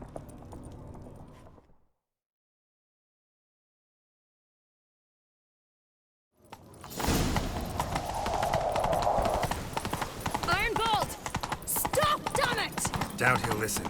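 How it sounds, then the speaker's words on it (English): Horse hooves gallop in The Witcher 3: Wild Hunt, a loud, rapid clip-clop rhythm that starts suddenly after a silent gap and continues steadily close up, with a short burst of game sound before the silence. "Grab a horse, we'll chase him down."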